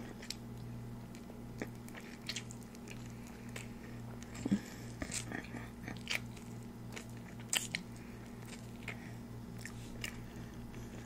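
Close, wet crunching and biting as shell-on shrimp is chewed, irregular crackly bites over a steady low electrical hum, with no talking.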